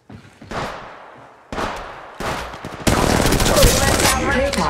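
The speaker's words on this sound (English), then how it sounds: "Getting shot at." Bursts of automatic gunfire in Apex Legends Mobile: several separate volleys of sharp, close shots that end in a sustained, dense stream of rapid fire, loud and with no voices over it.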